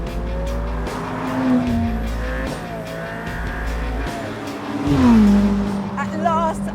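A Ferrari F8 Tributo's 3.9-litre twin-turbo V8 accelerates hard up close, its pitch climbing and dropping back with each gear change, with brief tire noise.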